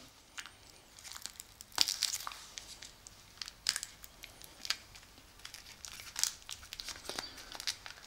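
Plastic shrink wrap on a Marvel United board game card pack is torn and crinkled up close, with irregular crackles and rips at a fairly quiet level and no talking.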